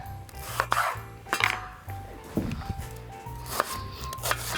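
Knife chopping through an onion half on a cutting board, a series of sharp wooden knocks and clinks spaced unevenly, close and clear over faint background hum.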